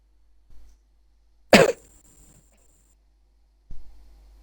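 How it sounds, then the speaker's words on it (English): A single sharp cough close to the microphone, preceded and followed by faint soft knocks in otherwise near silence. "I had to be the guy that coughed."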